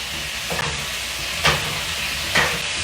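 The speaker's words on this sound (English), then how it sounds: "Now this is when you're gonna add in all the crispy tofu." Crispy tofu hits a hot pan with a steady sizzle and a few sharp bursts of frying as pieces land, a soft stirring hiss underneath, no talk.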